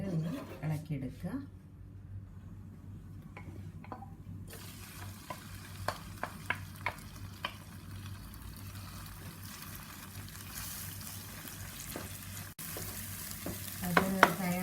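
Egg and spinach mixture sizzles in a frying pan on low flame while a spoon stirs it, giving steady frying hiss with light scraping taps throughout.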